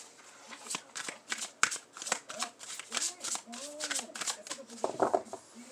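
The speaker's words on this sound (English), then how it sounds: "I'm going to do a quick shuffle to my Lenormand" Lenormand cards being shuffled by hand in a quick run of close, crisp riffling bursts and soft slaps, with no talking over it.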